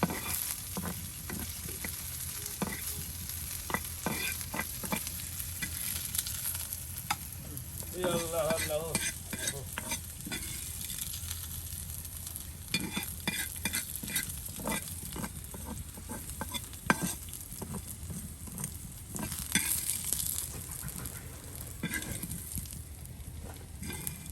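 Fig (dumur) bhaji sizzles steadily in a pan over a village cooking fire while a utensil stirs and scrapes it in irregular clattering strokes, continuous close frying throughout.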